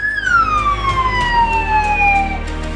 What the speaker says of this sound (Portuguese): Mais uma viatura do SAMU nesse momento chegando até o local.